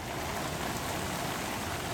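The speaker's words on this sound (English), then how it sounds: "But here comes the rain." Rain falling at an outdoor stage show as a storm moves in, a steady dense patter of drops on surfaces, close and continuous with no voices.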